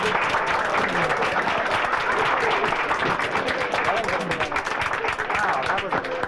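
A live comedy club audience breaks into loud, sustained applause, a dense continuous roar of clapping close by, with voices mixed into the crowd noise.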